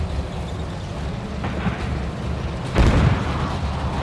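Distant booms and missile shots rumble in a Cold War Soviet tank battle in Gunner HEAT PC, a low continuous roar broken by one sharper, louder blast near the end, with no voices.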